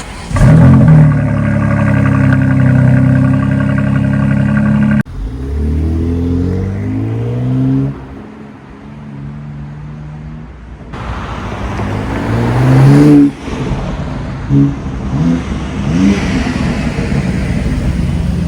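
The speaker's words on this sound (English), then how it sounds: "let's go ahead and show some exhaust revs and see if you can hear the difference" A BMW X4M or G80 M3 engine revs hard several times through a loud exhaust with a MAD valve controller, roaring up and dropping back between bursts, loud and close with a steady idle rumble underneath.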